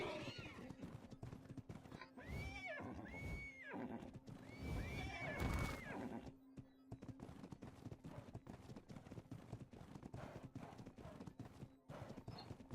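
A spotted horse in a western roleplay video game lets out several loud, close whinnies, with a steady clip-clop of hooves continuing before and after.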